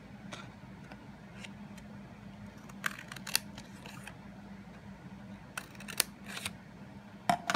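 Scissors cut along the crease of a greeting card, giving soft irregular snips and sharper clicks that bunch together in short bursts, close but faint, over a quiet low room hum.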